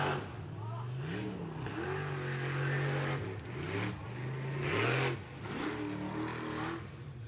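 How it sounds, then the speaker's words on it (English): A V8 superboat engine held at full throttle around a racing lap, a loud roaring drone with rising and falling pitch sweeps as the boat turns, with a commentator talking over it. "the fast guys basically will not lift off that throttle all the way around"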